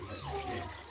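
Water splashes and pours steadily into a cooking pan of kurma for a moment, a close, continuous liquid rush with a faint voice murmuring underneath.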